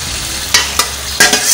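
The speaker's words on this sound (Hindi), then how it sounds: "अब मैं ये टिंडे और गोश्त जो है इनको हल्का सा भूनूंगी" Tinda and mutton fried in hot oil give a loud, close sizzle, broken by three quick scraping stirs of a spoon in the pan.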